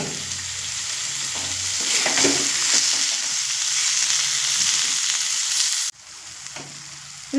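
Prawns rubbed with salt and turmeric sizzle loudly in oil and spice masala, stirred now and then, a steady close frying hiss that drops away sharply near the end.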